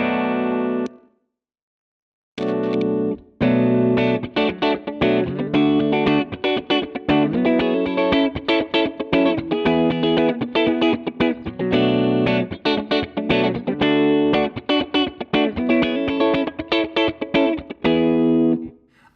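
A distorted electric guitar through a Sonicake Matribox 2 Pro amp model plays chords and riffs with a light spring reverb tail at 15% mix, loud and continuous after a brief opening pause.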